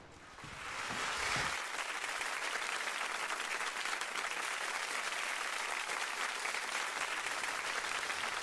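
An audience at a pop music festival bursts into sustained applause after a brief moment of sound, steady dense clapping from a crowd that continues to the end.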